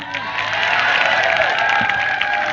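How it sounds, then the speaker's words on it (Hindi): Crowd of listeners at a talk in India claps and cheers in a steady, dense wash of applause lasting the whole stretch, fairly loud and even, with a few scattered shouts mixed in. "जोरदार तालियां"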